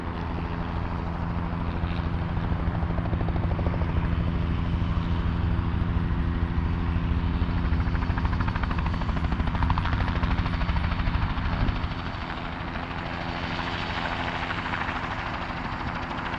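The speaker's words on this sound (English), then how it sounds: "Oh, the helicopter's taking off." Helicopter taking off at a small airport with biplanes nearby, a steady loud rotor thrum and whine that holds for a long stretch, then eases slightly as it lifts away.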